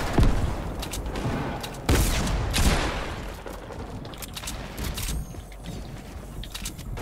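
Fortnite gunfire in an arena match: sharp shots at the start and a strong burst near two seconds, then scattered, fading reports amid game noise, with little talk.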